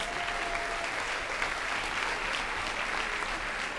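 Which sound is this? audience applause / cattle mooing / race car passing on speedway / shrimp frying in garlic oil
audience applause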